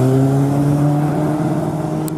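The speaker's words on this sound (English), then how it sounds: "Got a Repsol Honda, I think it is, coming through." A Repsol Honda passes by on a road at Lake Garda, Italy, its engine giving a steady, loud, close droning hum that holds throughout without speech.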